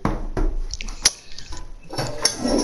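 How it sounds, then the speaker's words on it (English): A toilet flushing in a Fortnite game, heard as a loud watery rush with drips and splashes that fades out and then comes back. "Oh, there we go. It flushed."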